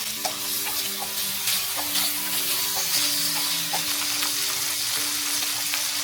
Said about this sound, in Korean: 팬에 식용유 2스푼 정도 두르고 새우부터 볶아줄게요.